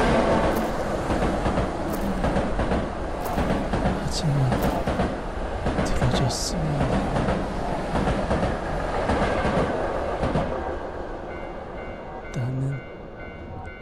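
A cursed train passes in a horror video game, a loud continuous rumble with clickety-clack wheel noise and high metallic squeals, a voice speaking briefly over it.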